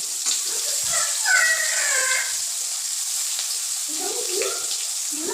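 Spiced jackfruit pieces drop into very hot oil, setting off a bright, crackling sizzle that runs continuously through the clip alongside faint stirring clatter and a little background voice.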